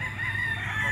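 A rooster crows at a busy pet and poultry market at Grotto, a single brief, fairly loud call held for about a second over a low background hum.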